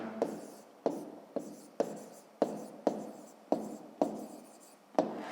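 Pen writing on paper during a fifth-grade maths exercise: about ten brisk strokes in a steady rhythm, each a sharp scratchy onset fading out, close and fairly quiet with no talking.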